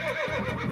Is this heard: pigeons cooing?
no